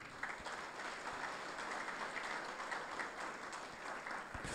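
A church congregation applauds during Sunday announcements, a faint, even patter of many hands clapping steadily throughout, heard from some distance.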